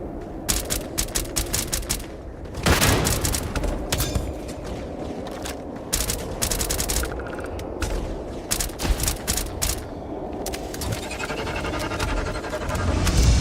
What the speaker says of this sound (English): they started shooting